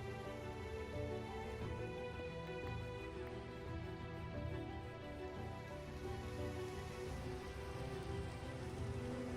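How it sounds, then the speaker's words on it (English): Steady rain in Minecraft patters continuously on a surface, an even, dense hiss of drops with no pauses, fairly quiet throughout. "Even in Minecraft, I like the sound of the rain."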